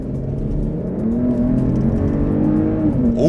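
A Mercedes-Benz GLE 450 SUV engine revs up with a rising, steady drone, growing louder as it accelerates, heard close and without talking.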